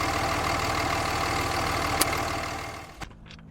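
A 2003-2009 Ram diesel truck engine idles steadily up close with a dense, even rumble and no voices, then cuts off abruptly near the end, leaving near-silence.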